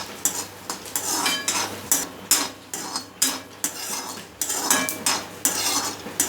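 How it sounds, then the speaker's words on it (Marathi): Peanuts fried and stirred in a pan over medium heat for spicy garlic chutney, with repeated scraping and clinking of a metal spoon against the pan above a soft, steady sizzle, close and continuous. "शेंगदाणेही चांगले फ्राय करून घ्यायचे।"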